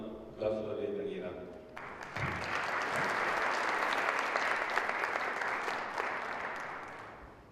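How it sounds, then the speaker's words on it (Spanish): Welcoming applause from the audience at a nephrology conference meeting on chronic kidney disease in older adults rises sharply after a short spoken lead-in and holds as a dense, even wash of clapping to the end. "le damos un aplauso de bienvenida"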